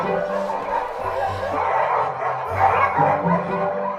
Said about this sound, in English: They go and pull out their Teach Your Dog to Bark CD and start playing it for Zeus.